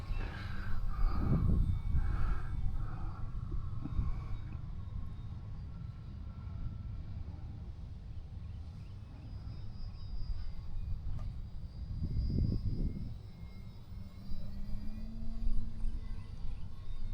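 A slow-flying Ultra Stick RC model airplane drones steadily with a faint, distant motor hum, swelling slightly as it passes closer at a couple of moments.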